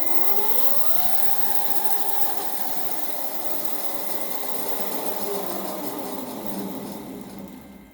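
An electric go-kart motor running forward on 24 volts at 30 amps gives a steady, fairly loud whir and hum. It holds even for several seconds and then begins to fade at the end.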